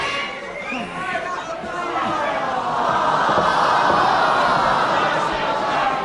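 A steady wash of crowd chatter and murmuring fills an arena at a 1973 UK professional wrestling bout, rising slightly and staying dense and even throughout, with no distinct cheers standing out.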